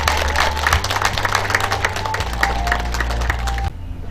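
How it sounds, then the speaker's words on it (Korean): Crowd applause at a Buddha's Birthday ceremony at a Korean temple, loud and continuous with a low hum underneath, cutting off abruptly near the end. "큰 박수 부탁드리겠습니다."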